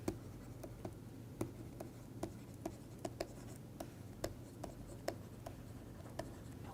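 Axis labels are written by hand on a plot with quiet, close scratchy strokes and sharp taps in an uneven rhythm. No one speaks.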